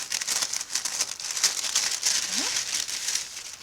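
Kraft paper packaging crinkling and rustling up close while a mixed-media stencil order is unwrapped, a steady crackly texture with a brief rising squeak near the end and no talking.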